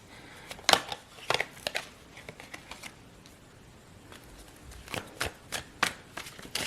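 Tarot cards are shuffled in close, soft bursts of riffling and flicking, several quick clusters separated by quieter pauses, with no talk over them.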